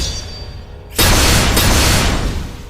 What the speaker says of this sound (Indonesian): Ledakan kecil yang tercipta dari pedang tersebut membuat seisi gua menjadi terlihat jelas